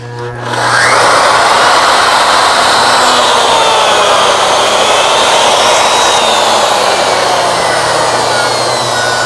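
Ornamental mill cutting away a workpiece surface during assembly, a loud, steady high-pitched whir that spins up in the first second and then holds continuously with a slight drift in pitch.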